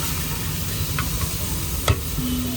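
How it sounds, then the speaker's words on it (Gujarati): Coriander and crushed garlic, added after tomatoes, are stirred in a pan for a street-style egg curry, a dense hiss of frying with a few sharp spatula clicks and scrapes, no speech. "હવે હલાવવાનું"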